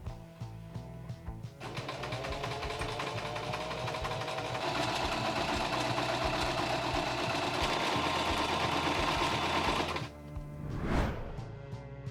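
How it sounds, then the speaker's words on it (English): A sewing machine stitching sailcloth starts up and runs in a fast, steady mechanical whir for about eight seconds, then stops, followed by a short rattle. "I used the sewing machine to add details"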